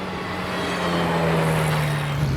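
A hypercar with straight-cut gears roars past with a steady high-pitched gear whine over its engine, the sound swelling as it nears and then easing away.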